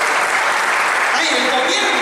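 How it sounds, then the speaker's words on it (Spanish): Church congregation clapping in a dense, steady wash of applause, loud and continuous throughout, with voices mixed in under the clapping. "Yo le damos un aplauso a Jesucristo."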